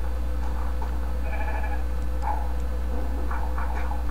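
Sheep bleating in the video game Minecraft, several short, close bleats over a loud constant low hum, with a few clicks in between.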